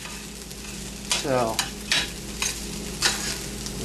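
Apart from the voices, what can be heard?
fried rice sizzling in pan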